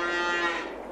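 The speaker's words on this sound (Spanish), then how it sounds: "Serían nuestras vacas, las tenemos por aquí." A cow in Farming Simulator 22 lets out a single clear, drawn-out moo that fades toward the end.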